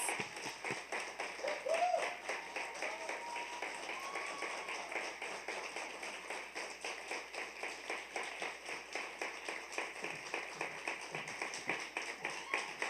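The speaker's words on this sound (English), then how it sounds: "Round of applause, yes." Audience applause at a youth awards ceremony rings out as a faint, steady, rhythmic patter of clapping, heard from a distance and continuing evenly throughout.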